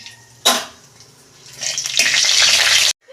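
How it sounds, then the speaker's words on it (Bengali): Whole cumin, dried chili, cinnamon, cardamom and cloves dropped into hot oil, a sudden close splash followed by a growing loud sizzle that cuts off abruptly. "এই যে গোটা জিরে দিচ্ছি আমি অল্প লঙ্কা দিচ্ছি একটা শুকনো এর ডালচিনি এলাই লবঙ্গ দিচ্ছি"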